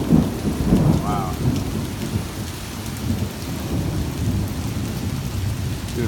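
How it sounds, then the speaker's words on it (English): Heavy rain pours steadily through a thunderstorm in New York City during a severe August storm, with a dense, constant roar and low rumbling thunder, loudest near the start and continuing throughout without any voices. "Doing a weather video for this thunderstorm right now."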